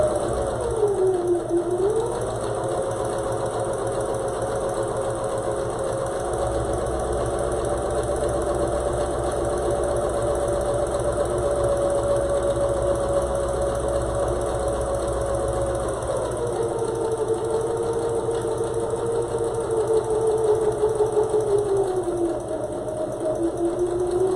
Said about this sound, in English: Go ahead and sew it with a 1/4 inch seam allowance.